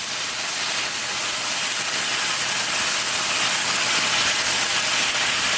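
Beef sizzling and steaming in a hot pan after the heat is turned down for beef and broccoli, a steady, loud, dense hiss that runs without a break and has no talking over it.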